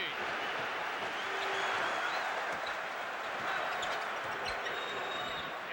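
Crowd at a 1984 Bullets vs Bulls basketball game roaring after a Quentin Daly shot, a steady loud wash of cheering and applause that holds throughout, with a commentator talking over it.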